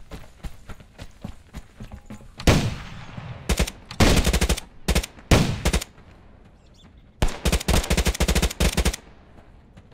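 Automatic gunfire in the online survival shooter game Fear the Wolves: several loud, rapid bursts of shots at close range with short gaps between them, over a low background of faint tapping and movement sounds.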